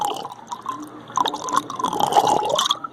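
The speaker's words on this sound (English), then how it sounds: "But we're pumping water." Water pumped through a 75-gallon custom tea tank, a steady liquid gurgle and trickle with dripping and filling sounds, close and moderately loud, with no one talking.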